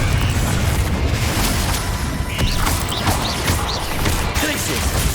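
A Confringo blasting spell goes off in the Hogwarts Legacy game, a loud rumbling burst of explosive noise filling the whole stretch, with faint whooshing spell effects flickering over the top.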